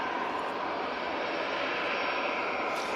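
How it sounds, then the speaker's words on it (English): A Gulf Air Boeing 787-9 Dreamliner on short final into Manchester Airport gives a steady, fairly distant jet engine roar that holds evenly throughout with no voices. "on short final, we have the Gulf Air 787-9 Dreamliner coming in from Bahrain"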